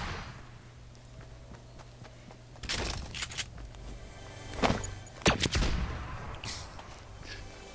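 Gunfire in the video game Fortnite: several sharp, loud shots in separate bursts with quieter in-game ambience and movement between them, no talking.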